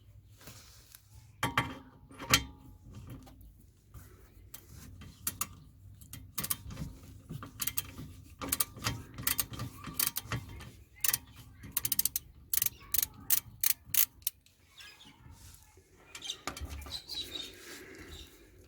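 A ratchet works a 10 mm bolt on a 1998 Honda Civic during rear suspension work, giving bursts of rapid clicking with pauses and clanks between them, close and clear.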